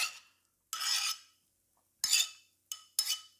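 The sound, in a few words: gently stirring avocado and shrimp verrine with a spoon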